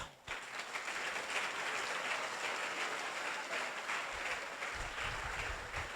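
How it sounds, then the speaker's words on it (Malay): Applause from a seated audience at a religious lecture, a steady wash of many hands clapping continuously at moderate distance, fairly faint, with no speech over it. "Sila beri tepukan pada diri anda."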